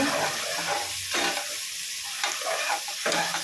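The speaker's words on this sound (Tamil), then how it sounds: "அது நல்லா வெங்காயம் வதக்கணும்" Onions sauté in a pan for Sankarankovil seeraga samba chicken biryani, a loud, close, continuous sizzle with periodic swells as they are stirred, and no speech.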